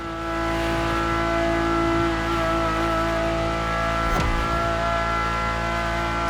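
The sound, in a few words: Ferrari supercar engine, video game The Crew Motorfest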